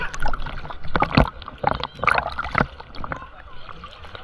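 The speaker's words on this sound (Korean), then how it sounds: "아, 파도 온다, 파도 온다." Waves from a water park wave pool slosh and splash in uneven bursts nearby, rising and falling in short surges, with people's voices calling out over the water.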